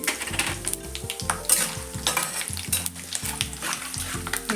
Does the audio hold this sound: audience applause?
no